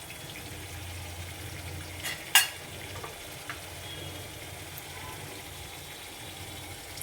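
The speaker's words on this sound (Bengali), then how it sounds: "এখন আমি সামান্য একটু যেরকম গ্রেভি লাগবে আর কি, আমার 3টে মাছ, সেই ধরনের আমি একটু গরম জল দেবো" Hot water poured into sizzling masala for a Bengali-style katla fish kalia, a soft steady frying hiss with a brief sharp splash and clatter near the middle, close by and without any talking.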